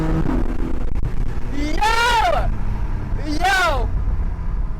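A 2023 Porsche 718 Boxster GTS accelerates hard in Sport Plus mode. The engine note sweeps up and falls back twice over loud, steady road and wind noise, and people talk in the car.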